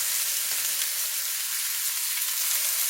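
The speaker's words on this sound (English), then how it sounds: "I'm going to try to sear them" Teriyaki pork ribs searing in a hot pan, a dense, even hiss of sizzling oil held steady and fairly loud up close, with no talk over it.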